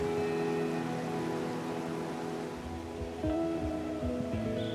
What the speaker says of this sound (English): the waterfall's roar drowns out all other sounds.